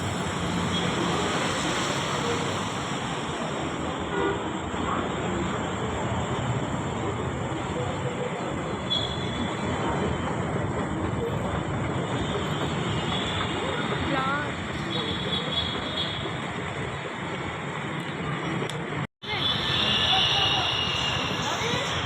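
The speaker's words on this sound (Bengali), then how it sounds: "ট্রেন এসে গেছে" A train pulls into a railway station with a sustained rumbling roar and rattling clatter that runs throughout. People talk nearby over the noise, and the sound briefly cuts out near the end.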